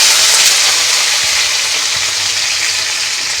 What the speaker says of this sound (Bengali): সো এবার আমি আমার যেগুলো পেঁয়াজগুলো কেটে রেখেছি সেগুলো দিয়ে দিচ্ছি এর মধ্যে